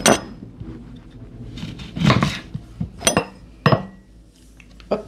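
A knife slicing through a lemon on a bar counter, giving a few sharp clinks and taps of the blade against the board or glassware, close and fairly loud, with quieter handling noise between the cuts.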